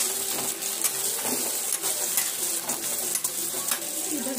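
Paneer frying in a pan, a continuous loud sizzle with scattered crackles and stirring scrapes, heard up close with no talking.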